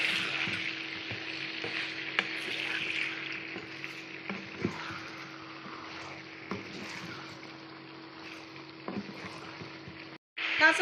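Chunks of beef and potatoes fry in ghee for Peshawari beef, a moderate, continuous sizzle with periodic spoon scrapes and clinks, a low steady hum beneath, and a brief cutout near the end.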